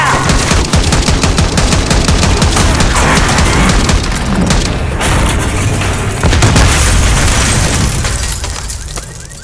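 Dense, loud gunfire and booming explosions from a Call of Duty Black Ops 6 campaign battle, rapid bursts overlapping continuously with heavy blasts and no break in the barrage.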